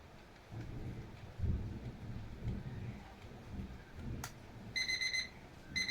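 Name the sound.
alarm clock ringing at 12 o'clock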